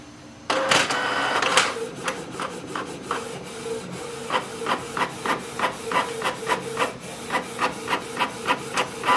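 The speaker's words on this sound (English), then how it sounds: "Click on the test print." A Canon TS3700 inkjet printer starts up with a whir, then its print head shuttles back and forth in a quick, regular series of rasping passes printing a test page, close and clear.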